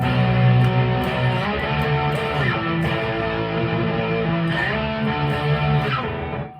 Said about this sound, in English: This is a proper distortion pedal.